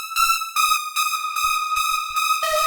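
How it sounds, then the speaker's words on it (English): Hardstyle synth lead treated with chorus, a bright harmonic tone played in repeated stabs of roughly half a second, loud and close with no voice over it, the pitch dropping on the final note. "Then we have a bit of chorus."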